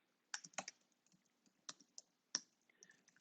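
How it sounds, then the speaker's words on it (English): A name is typed on a computer keyboard: faint, close key clicks in short irregular bursts with pauses between them. "I'm going to just simply type my name"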